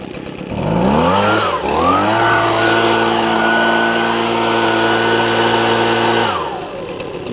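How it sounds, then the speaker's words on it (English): Husqvarna leaf blower two-stroke engine running after a coil repair, loud and close, rising to a steady high buzzing drone with a brief dip and recovery early on, then winding down at the end. "You can see it's idling just fine."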